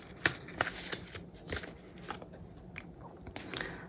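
Tarot cards are shuffled and drawn by hand nearby, giving a handful of sharp, crisp card snaps and slides spaced irregularly over a few seconds, with no talking.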